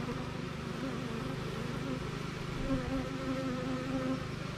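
Honeybees buzz around an open hive during a farm hive inspection, a dense continuous droning hum close by with individual bees wavering in pitch as they pass.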